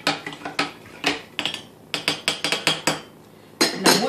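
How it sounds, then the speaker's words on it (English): A big spoon stirs a lemonade Moscato spritzer, giving a close, irregular run of sharp clinks and knocks against the glass with brief pauses between strokes and no talking. "I'm going to use a bigger spoon. I'm going to stir this up"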